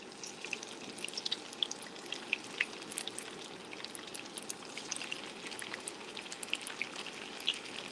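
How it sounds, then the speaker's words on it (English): Steady crackling sizzle of vegan oxtails wrapped in rice paper searing in a hot pan, with scattered sharp pops and spits throughout and no talking. "So got a little sizzle going"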